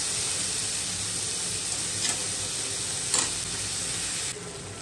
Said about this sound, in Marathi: छान आपल्याला एकजीव करून घ्यायचं आहे, छान असं परतून घ्यायचं आहे ते